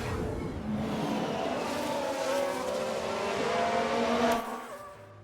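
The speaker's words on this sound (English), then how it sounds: "Looks like there's been a lockup." A race car engine drones steadily in the F1 Manager 22 game as a car locks its wheels, the whine rising slightly before a short tire scrub and a drop in level near the end, with no speech.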